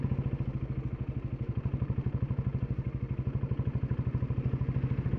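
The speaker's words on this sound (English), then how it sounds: "Now switching to a higher gear so that I can chug along instead of revving." A motorcycle engine chugs at low revs in a higher gear on a hill road, with a steady, even pulse of firing beats, heard close and alone.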